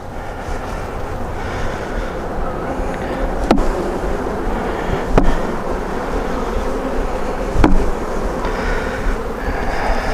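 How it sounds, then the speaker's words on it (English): Honeybees from an aggressive colony buzz steadily as they are tapped out of an old broken hive box, a continuous close droning hum broken by three sharp knocks. "I just got to tap out all these bees that are in the old box"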